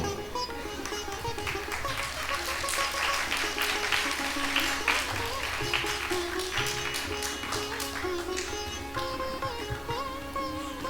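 Audience applause at a cultural evening, the first cultural programme of the Swarabarna group: steady, dense clapping from a crowd that carries on for about eleven seconds, blended with music playing underneath.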